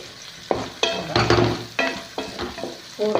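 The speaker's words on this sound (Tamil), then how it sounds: "இந்த வெங்காயம் நல்லா வதங்கிட்டு, நல்லானா ஒரு பாதி வதங்கிட்டு" Onions sauté in a pan for hotel-style tiffin sambar, a close sizzle with repeated scraping strokes as a spatula stirs and turns them against the metal.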